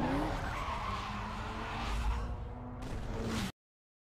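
Lincoln Navigator with a 5.4L V8 in Need for Speed Underground 2, tires skidding and squealing over a steady roaring engine on a test drive, loud and continuous for about three and a half seconds before cutting off abruptly.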